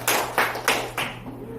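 A few brisk claps at a Korean seminar forum, four sharp rhythmic bursts over a steady low hum, fading quickly into room tone as a resident committee chair is welcomed.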